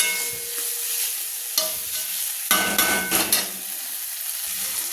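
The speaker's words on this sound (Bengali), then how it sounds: "মশলাটাকে আমি কষিয়ে নিচ্ছি বন্ধুরা" Onion with ginger-garlic paste, chili, turmeric and cumin powder frying and being stirred in a pan for a potol-soybean curry, a steady sizzle broken by bursts of spoon scraping in the middle, no voices.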